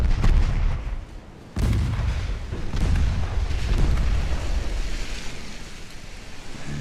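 Naval gunfire in the video game Ultimate Admiral: Dreadnoughts, with a deep cannon boom followed by rolling rumble and sea-like wash, loud and continuous, with further distant thuds and no speech.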